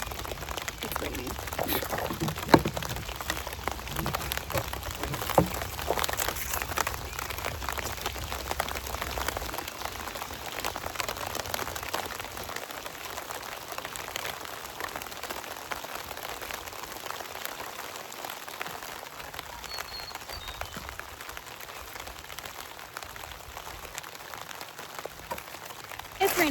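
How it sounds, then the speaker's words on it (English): Steady rain pattering densely on a garden surface nearby, a continuous hiss of drops lasting throughout with occasional louder taps. "It's raining quite a lot."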